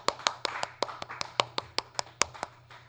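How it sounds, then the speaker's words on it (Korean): A single pair of hands claps about a dozen times in a steady, slightly quickening rhythm, sharp distinct claps heard close and alone in a quiet room. "이럴 땐 박수."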